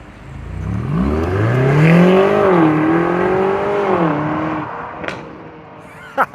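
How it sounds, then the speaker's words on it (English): A 2024 BMW XM with a V8 and stacked exhaust pipes pulls away and accelerates hard, its loud exhaust note climbing and rising through several gears before it fades, with a few sharp pops near the end. "Nice slap at the end there through that exhaust."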